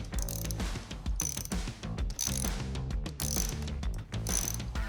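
A ratchet loosens a bolt on a Yamaha TW200 dual-sport motorcycle in repeated quick clicking bursts, about five strokes with short pauses between, close and clear with no talk.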